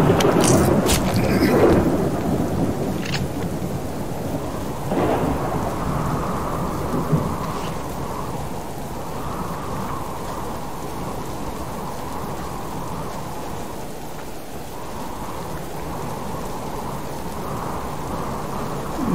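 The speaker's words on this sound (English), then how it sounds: "rain and storm was kind of rumbling together" Steady rain pours down while low thunder rolls and rumbles in the video game Subsistence, loudest at the start and then fading into a continuous stormy wash.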